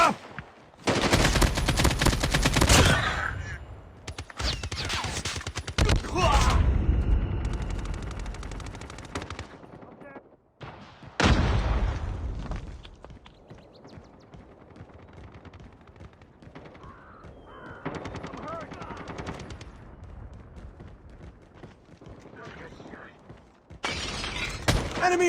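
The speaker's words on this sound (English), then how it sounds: "Enemy in sight! I got shot." Gunfire bursts from the Call of Duty Mobile video game in ranked multiplayer, with loud repeated volleys, shattering impacts and heavy thuds coming in waves, and game voice callouts in between.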